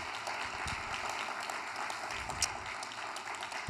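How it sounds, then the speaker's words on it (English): An audience claps at a fireside chat event, a moderate, steady wash of applause heard somewhat distant and even throughout, without any talking. "So I would love it if you would give her a gigantic round of applause."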